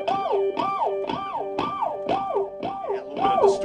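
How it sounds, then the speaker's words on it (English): Repeating electric guitar harmonics swoop up an octave and back down through a whammy pedal in a steady, warbling cycle, with echoing delay trailing each one, loud and alone. "when you add a little bit of delay and you depress the whammy pedal set to an octave,"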